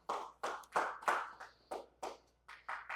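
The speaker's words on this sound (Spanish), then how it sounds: "Dale el aplauso al Señor." Rhythmic clapping from a church congregation during a sermon, about ten even hand claps over three seconds, steady and fairly close, with no talking.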